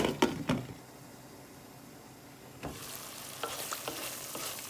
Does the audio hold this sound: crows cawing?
no